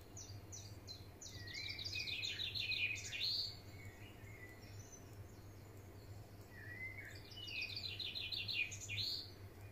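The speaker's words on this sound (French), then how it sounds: "accompagné par ces petits oiseaux." Small birds chirping and twittering in two bright bursts of rapid song, faint and somewhat distant over a low steady hum.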